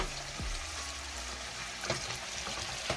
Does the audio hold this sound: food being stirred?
yes